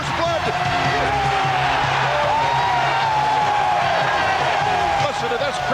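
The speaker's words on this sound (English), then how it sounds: "Listen to this crowd. They're on fire." A roaring crowd at a 1995 AFC Championship football game between the Chargers and Steelers fills the stadium with loud, sustained cheering and whooping after a touchdown, with a commentator talking over it.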